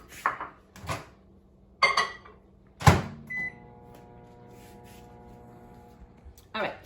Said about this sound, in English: And then we're going to microwave it for a minute in the microwave.